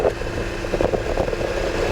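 A Voge 900 DSX motorcycle engine, brand new with zero kilometres, running with a low, throbbing rumble and slight surges, close and continuous for two seconds.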